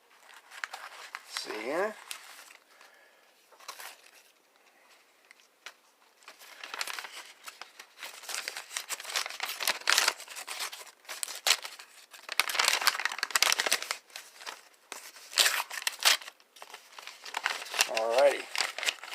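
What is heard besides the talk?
sliding a card out of a cut-open package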